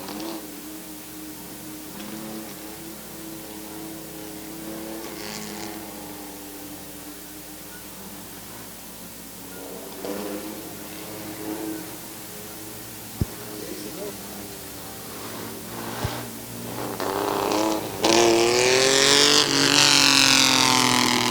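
Race trucks at Midvale Speedway roar past in waves, engine tones rising and falling as they circle the track, growing louder toward the end, with an announcer talking over the noise.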